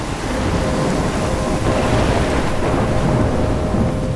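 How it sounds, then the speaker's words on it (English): A thunderstorm with heavy rain in the video game Life Is Strange, a dense continuous roar of rainfall under deep rolling thunder rumbles, loud and steady with no voices. "I'm trapped in a storm?"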